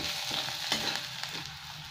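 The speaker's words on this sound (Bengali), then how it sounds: "মশলাটাকে খুব ভালো করে একটু ভেজে নেবো আমি।" Dry masala of turmeric, cumin powder and coriander powder fries in oil, a soft continuous sizzle with a few stirring scrapes, faint and close, with no talking.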